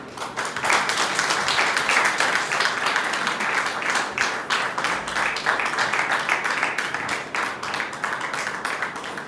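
A congregation in a church breaks into loud, sustained applause, dense rapid clapping filling the room at an even level throughout.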